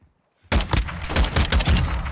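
Lachmann 762 battle rifle gunfire in Call of Duty MW2 bursts in after a brief silence: loud, rapid repeated shots with booming low thumps, continuous for under two seconds.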